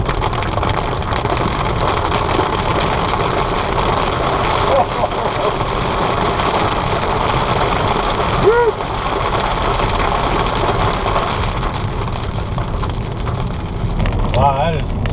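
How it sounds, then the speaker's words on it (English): Steady heavy rain drums on a moving 2015 VW Jetta 2.0 TDI with a constant engine rumble underneath, dense and loud throughout, with a few brief voice fragments. "Now here comes some heavy rain."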